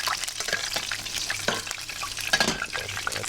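Onions fry in bone marrow fat in a pan, a steady close sizzle with frequent scraping and stirring strokes running throughout, no voices over it.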